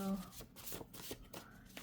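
Tarot cards being shuffled by hand in three quick rounds, a soft riffling and flicking texture with short bursts of card noise, close and moderately quiet, with faint talk in the background.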